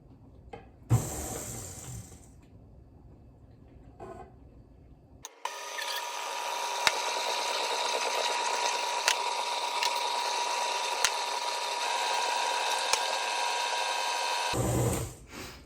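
A stand mixer fitted with a paddle attachment kneads vegan pizza dough, its steady motor whir droning loudly and evenly for about ten seconds after some quieter clatter, with faint ticks along the way and no talking.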